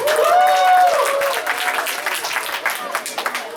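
At an association speech, an audience applauds with a brief burst of clapping and cheering that fades into scattered claps and crowd murmur, with a voice speaking near the start.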